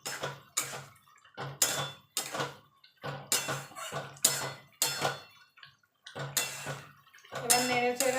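A spoon stirs ridge gourd poppy seed curry in a pan, giving repeated scraping strokes in a steady rhythm with short pauses between them, close and soft.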